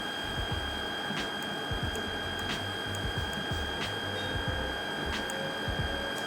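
A 5 kW BLDC motor on a test bench hums steadily from about 500 RPM, a constant whine with faint periodic clicks and low thumps underneath, with no one talking.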